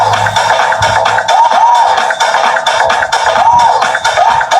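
A faulty Kevler GX2000 amplifier channel plays loud, harsh distorted sound, a constant gritty buzz with wavering tones and crackle that runs without a break through the whole stretch.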